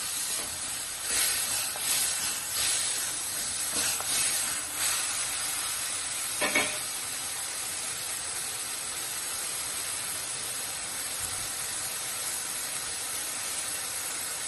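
Vegetables for Baroda palya fry in a pan with a steady, soft hiss; a few louder crackles come early on, then an even sizzle continues alone.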